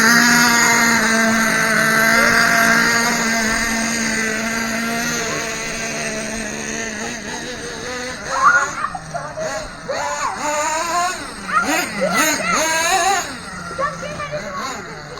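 Small RC truck engine (New Mac 28 in a Mad Crusher monster truck) running after a battery swap, a steady buzzing idle that breaks into several sharp revving bursts toward the end.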